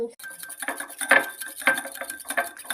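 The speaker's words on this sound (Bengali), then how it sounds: "চিনিটা ঢালার পর আমরা আগে কিছুক্ষণ মিক্স করে নেবো চিনি জল।" A fork mixes sugar and water in a bowl for homemade slime, producing close, rhythmic clinking and scraping against the bowl that repeats steadily throughout.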